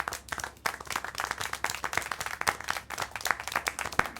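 Rapid, sharp hand claps from the video game Syberia: The World Before repeat in an uneven rhythm, close and fairly loud, with no voices over them.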